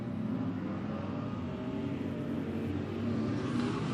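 Factory stock race cars roar around Penncan Speedway, a steady dense engine drone from several cars at middle distance with no clear passes standing out.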